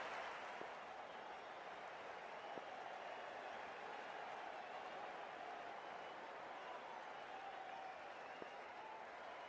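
Soft, distant stadium crowd applause from the Cricket 24 video game, a steady wash of clapping and murmur that stays even and faint for the whole stretch.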